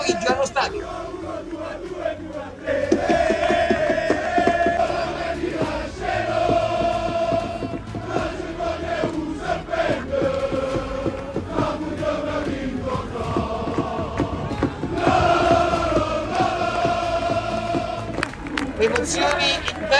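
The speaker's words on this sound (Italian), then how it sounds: "Questa è la emozione dei tifosi ieri pomeriggio allo stadio." Football fans at a stadium chant and shout together in loud rhythmic bursts, a dense roar of many voices rising and falling throughout.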